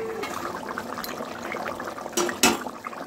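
Fish pieces dropped into boiling curry gravy in a pot, a steady bubbling simmer with two brief louder splashes near the end, no talking.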